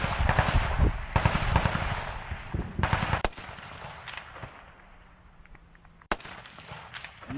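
Rifle shots fired in rapid succession in a combat setting during the war in Ukraine, a string of sharp, loud cracks in bursts with brief pauses, followed by two more isolated reports later on.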